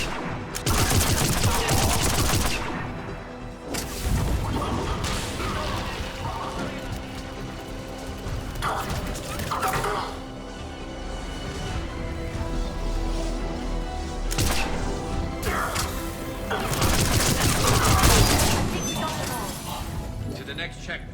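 Sustained gunfire and turret fire in a Mass Effect 3 battle against Cerberus, dense bursts of automatic shots and impacts rising and falling in intensity, with voices talking amid the combat.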